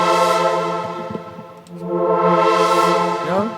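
Dry synth chord built from saw and sine waves with an automated low-pass filter and no added effects, sustained and loud, its brightness sweeping closed and then open again twice, with no voices.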